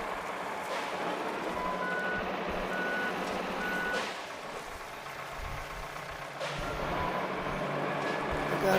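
A truck in the video game RoadCraft, loaded with trees, backs up with steady evenly spaced reversing beeps over a rumbling idling engine, with a brief voice in the background.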